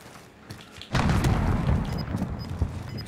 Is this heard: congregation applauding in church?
no